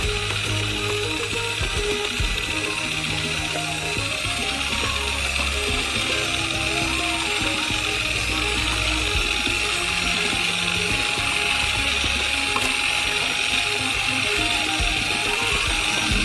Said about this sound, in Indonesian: Dan tuangkan campuran secara bertahap sambil mencampurnya dengan mixer.